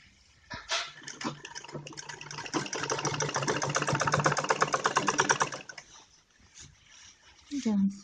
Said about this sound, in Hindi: और सीधी सिलाई लगाएं।